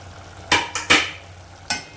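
A spoon scrapes and clacks against a pan while mushroom pieces are stirred into a curry, three quick sharp strokes in close succession over a low steady background hum.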